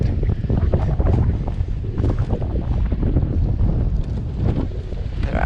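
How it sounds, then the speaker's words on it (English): Strong southerly headwind buffets the microphone on a coastal track at Sandy Cape on Tasmania's west coast, a loud, continuous roar with gusty swells that never lets up. "It's a strong headwind I've been going against the whole time. Strong southerlies blowing."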